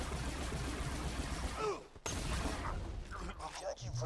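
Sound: gunshots from a friend in the video game Borderlands 2

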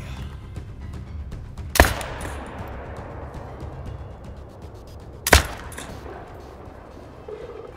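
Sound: hunting rifle shot at animal 243 yards away

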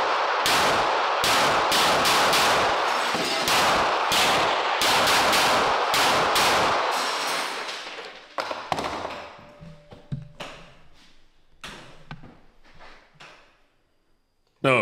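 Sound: shooting a Daniel Defense gun

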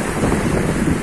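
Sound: sea waves and wind on the Crimean coast

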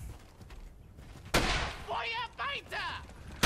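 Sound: sniper gunfire in Brothers in Arms video game

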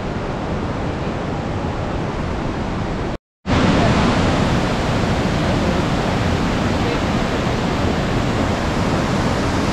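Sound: waterfall and flowing river

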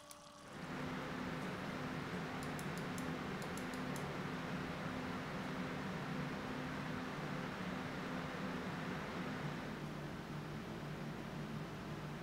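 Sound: Thermalright AIO water cooler pump and fan noise

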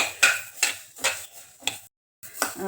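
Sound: stirring roasting coriander seeds in pan

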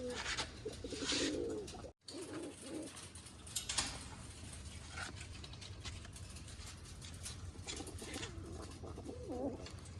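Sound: pigeons cooing

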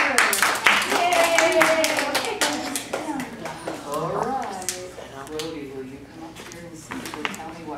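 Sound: children clapping for a classmate in class

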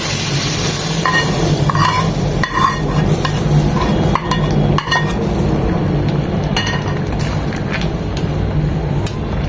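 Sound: fried garlic tempering added to bottle gourd, sizzling and stirring

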